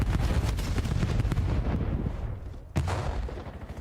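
Frag grenade explosions in a Call of Duty match roar continuously in a dense, rumbling wash, with a brief dip and then a fresh blast partway through.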